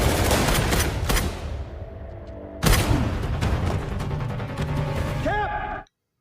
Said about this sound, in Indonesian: Mereka pun saling tembak dengan para pelaku tersebut dan menewaskan mereka